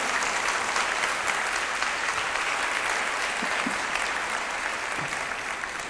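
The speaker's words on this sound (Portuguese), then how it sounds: "Dê um aplauso ao Senhor." A church congregation claps continuously and loudly for several seconds, dense sustained applause filling the room without any voices over it.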